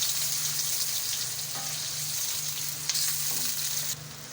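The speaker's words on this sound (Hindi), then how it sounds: "तो ये हम कटे हुए प्याज इसमें ऐड कर देंगे। इनको हम थोड़ा सा फ्राई कर लेंगे।" Chopped onions frying in half a cup of oil, a continuous close sizzle with a faint low hum and occasional small stirring knocks, heard on its own.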